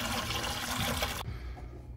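Water pours and splashes out of a car heater core during a flush with a garden hose. A steady, broad rush of liquid drops off sharply and leaves a softer trickle.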